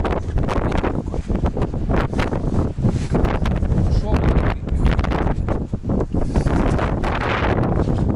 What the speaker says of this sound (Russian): В общем, ветрено.